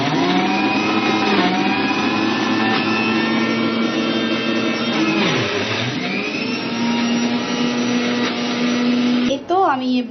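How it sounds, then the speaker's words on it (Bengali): A kitchen blender whirs steadily as it purées boiled meat with chickpea lentils, a loud continuous motor drone with shifting pitch as the load churns, ending in a brief clatter as it stops. "একটু ব্লেন্ডারটা ছেড়ে নিই"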